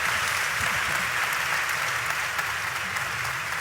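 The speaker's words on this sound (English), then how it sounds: "first of all, a round of applause." Audience applause fills a conference hall after a panel debate on peace in Europe at the Estoril Conferences, a dense, steady roar of many hands clapping close and loud throughout.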